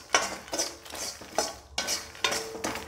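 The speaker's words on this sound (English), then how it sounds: "Mix it until it absorbs all the flavors." Spoon stirring roasted makhana (foxnuts) with dry spices in a hot pan, a steady run of scraping, rattling strokes about every half second, close and fairly loud with no voices.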